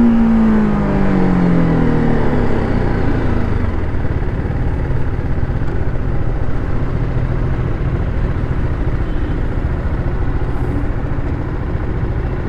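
A motorcycle engine revs up as the ride begins, a rising rev sweeping upward at the start, then settling into a loud, steady close-up engine roar with wind noise and no talking.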